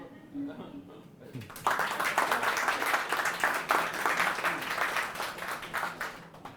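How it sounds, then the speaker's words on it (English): A lecture audience at a physics talk bursts into clapping after a brief quiet with a few voices, then the applause is steady and close, the hands sounding crisp and distinct for several seconds. "Maybe we clap first and then ask."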